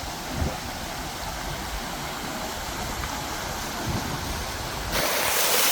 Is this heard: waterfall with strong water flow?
yes